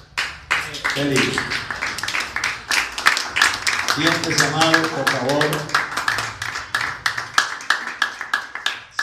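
Scattered, uneven hand clapping from a church congregation sounds throughout, with someone speaking over it in the middle.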